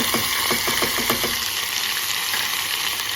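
Ginger and garlic hit hot oil in a pan with a loud, continuous sizzle and a few quick stirring taps early on.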